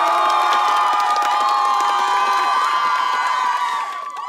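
A Korean TV studio audience at a spontaneous dance contest cheers and shouts loudly, with whoops and some clapping blended into a continuous crowd roar that eases slightly at the end.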